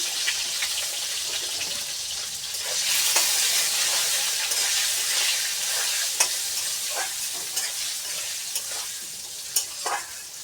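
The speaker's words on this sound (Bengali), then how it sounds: "বেগুনটা আমি একটু সাতলায় নিব" Eggplant sautéing in a pan with turmeric and salt, a bright continuous sizzle with scattered crackles and spatula scrapes, fairly close and with no talking.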